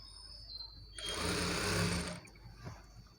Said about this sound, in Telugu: ఇలానే లాస్ట్ వరకు నేను ఒక టాప్ స్టిచ్ అయితే వేసుకుంటూ వెళ్తున్నానండి